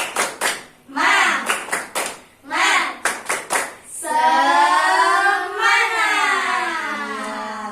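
Schoolchildren in a classroom perform the rhythmic 'tepuk semangat' clapping chant. Sharp claps fall in quick patterned bursts, interleaved with short shouted syllables, and the piece ends in a long sustained group shout.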